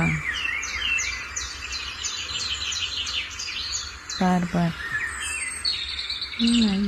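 Sparrows chirp and tweet continuously from a video playing on a phone, a busy, bright stream of calls with a short burst of human speech partway through.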